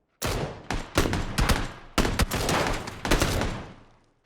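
Rapid bursts of gunfire in PUBG, loud and close, about six clusters of cracking shots in quick succession with short gaps, no voices.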